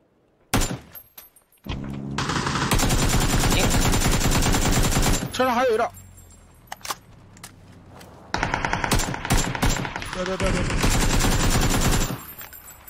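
Gunfire in a shooting video game: long, dense automatic bursts, loud and close, broken by brief pauses and a few isolated shots, with a faint voice in the gaps.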